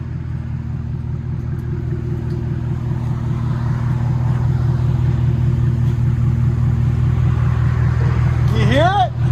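A Chevy Camaro SS with a 6.2L V8 and Flowmaster Outlaw exhaust with 5-inch tips runs close by. Its deep, pulsing, throaty rumble holds steady and grows slightly, and a rising sweep near the end suggests a rev.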